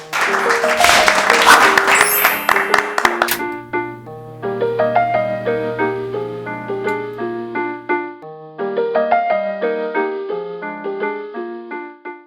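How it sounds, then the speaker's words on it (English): An audience applauds at the start of a cast's stage production of the musical Could You Hug a Cactus? A few seconds of loud, dense clapping blend with music before fading into clear piano-like melodic accompaniment. "let's actually get that applause rolling now"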